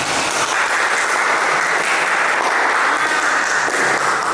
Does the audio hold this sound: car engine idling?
no